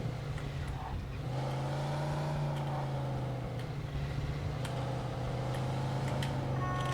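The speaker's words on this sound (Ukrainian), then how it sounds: "Тачка. Шуберт Херс. Ого, з компресором навіть." Supercharged Shubert Hearse car engine in Mafia 2 revving steadily, a loud continuous low drone with rising and falling pitch sweeps throughout, no talking.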